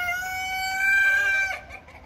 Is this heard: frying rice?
no